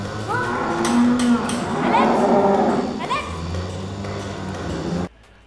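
A cow in the film Raw (2016) lets out loud, drawn-out bellowing moos, several long calls in a row with voices faintly beneath, before everything cuts off abruptly.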